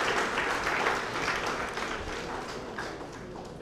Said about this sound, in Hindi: तालियों में गड़गड़ाहट